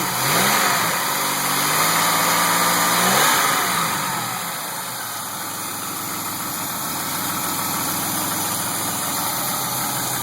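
A Pontiac Grand Am GT engine revs up and down a few times, then settles into a smooth, steady idle with no ticking, heard up close without any voices.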